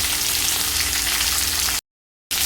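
Starfruit frying in a pan for sweet-sour chutney, a loud, steady close-up sizzle with no voices, cut off by a brief silent gap near the end before resuming.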